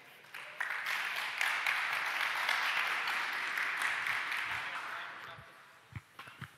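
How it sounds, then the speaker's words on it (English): Applause from an audience at a startup pitch event as a company CEO is introduced, swelling quickly into a full even wash of clapping, then fading away with a few thumps near the end. "A big applause for Anne-Laure Klein"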